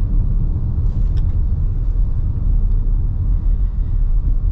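A 2024 Toyota Grand Highlander, rated 270 horsepower, drives along with a steady low road and engine rumble throughout, loud and close, with no talk.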